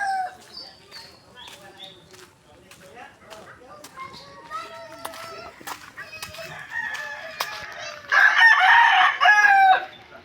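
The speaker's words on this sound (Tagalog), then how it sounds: "daming manok dito" Several roosters crow repeatedly, some distant and one loud and close near the end, with children's voices and chatter in the background.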